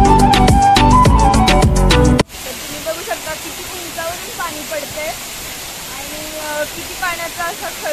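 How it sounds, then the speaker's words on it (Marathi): Ekiv waterfall near Satara gives off a continuous broad rush of flowing water. It comes in after a short burst of music and carries on under a person's talking. "किती पाण्याचा असा खळखळ आवाज येतोय"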